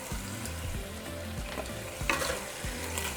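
Beef steak frying in oil in a pan while being stirred, a steady sizzle broken by repeated scraping strokes of the utensil, with a sharper clatter near the end; close and moderately loud, no talking.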